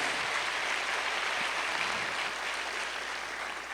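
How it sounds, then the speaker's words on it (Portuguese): A church congregation applauds at a Holy Spirit gifts seminar. The dense clapping continues steadily and fairly loud for the whole stretch, with no individual claps standing out. "dê uma salva de palmas ao Senhor Jesus por isso"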